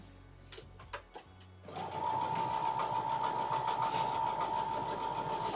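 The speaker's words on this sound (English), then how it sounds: "Just trying to make sure I'm sewing this up correctly." A sewing machine stitches a quilt block in a steady, fast mechanical whir that starts after a few soft handling knocks and runs continuously, close and clear.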